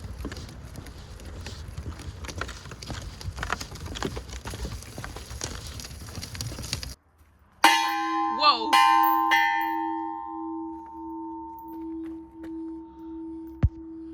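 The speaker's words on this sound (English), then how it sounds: "bell, which is by a lake." A large bell beside a lake on a winter road trip, struck once with a sharp clang after a passage of wind and engine rumble, then ringing on in a long, loud, slowly pulsing decay, with a second softer strike near the end.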